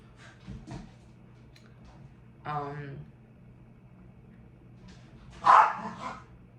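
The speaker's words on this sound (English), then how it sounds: "If you hear that noise, it's my dogs that are playing." Pet dogs play rough indoors and give a few short barks and yips at separate moments. The barks sound moderately close, and a person talks quietly in between.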